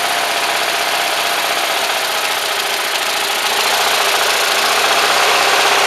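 A vapor-fueled engine idles steadily at close range, a continuous even running drone with a faint knocking texture and no breaks, no one talking over it.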